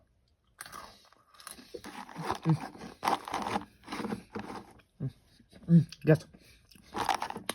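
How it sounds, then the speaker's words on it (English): Crunchy bites into a breadstick spread with Nutella, several sharp crunch bursts and chewing spaced through the clip, close up, mixed in with a person talking. "And the breadstick is very nice and crunchy, I would say."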